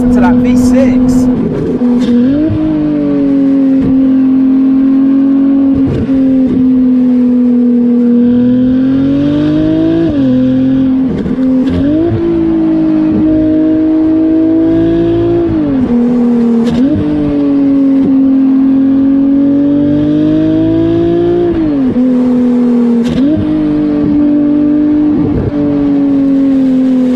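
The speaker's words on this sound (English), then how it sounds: "Just listen to that V6." Ferrari 296's V6 engine accelerating hard, loud and close, its tone climbing through gears with brief dips at each shift, sustained over about 27 seconds with no talk over it.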